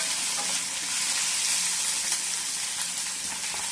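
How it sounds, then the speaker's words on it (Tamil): Onions and tomatoes sauté in an oil-filled pan for radish sambar, giving a steady, loud broadband sizzle that crackles without pause throughout, close up and with no voices. "வெங்காயம் எல்லாம் ஒன்றா போட்டு வதக்கி போட்டுக்கலாம்"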